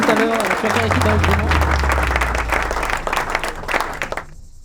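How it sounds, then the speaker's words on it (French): A talk show studio audience in France claps for the guest Jean-Marie, a dense, sustained burst of applause with a voice speaking over it. The clapping thins out and cuts off near the end. "On applaudit"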